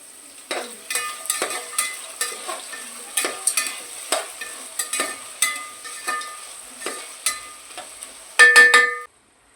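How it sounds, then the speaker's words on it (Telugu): Ghee hits a hot pan while chicken fried biryani is cooking, giving a steady close sizzle broken by repeated sharp stirring scrapes, with a louder burst of frying near the end. "ఇందులోకి నేను కొంచెం నెయ్యి వేస్తున్నానండి ఎక్కువ కాదు కొంచెమే వేస్తున్నాను"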